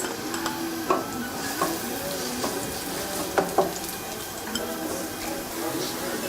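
Steady sizzling of onions frying in oil in a pan, with occasional clinks and scrapes of a utensil stirring, continuous and moderately loud throughout.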